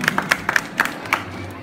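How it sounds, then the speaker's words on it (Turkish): Wedding guests clapping, a scattered handful of sharp claps spread over a couple of seconds from a small nearby group, fading out toward the end. "alkışlar Hasan abim için olsun diyoruz"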